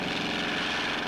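A civilian patrol airplane on a regular scheduled flight drones steadily overhead with a constant propeller engine hum, moderately loud and unbroken.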